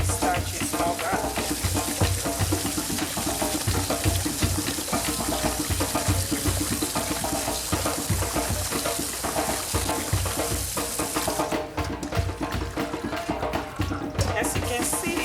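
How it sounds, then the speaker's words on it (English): Rice being rubbed and washed by hand in water to strip off starch while making Nigerian jollof rice, a steady wet swishing and grainy churning, close and continuous with small splashes throughout. "I'm getting rid of the starch by doing this, rubbing the rice."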